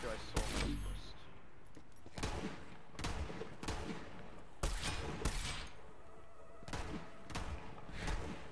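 Rapid gunfire in the shooter video game Borderlands 3, sharp bursts of shots in irregular clusters, loud and close, with game sounds between volleys.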